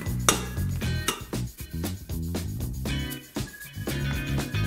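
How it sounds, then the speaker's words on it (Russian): Boiled potatoes mashed with butter in a pot: repeated clinking, scraping strikes of a utensil against the pot in a steady, fairly quick rhythm, close and clear with no talking. "Добавляем 50 грамм сливочного масла и разминаем картошку"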